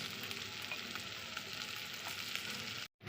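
Fish roe and onion fry in oil in a wok with a steady, close, dense sizzle and crackle that runs on without a pause until it cuts off just before the end.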